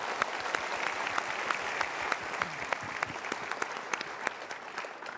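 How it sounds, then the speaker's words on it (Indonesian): A seminar audience breaks into applause, a full, lively patter of many hands with individual sharp claps standing out, sustained evenly at moderate loudness from start to finish. "kita berikan tepuk tangan"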